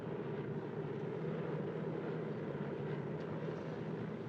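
A DC-3 propeller airliner drones steadily in flight, a continuous loud engine roar with no talk over it.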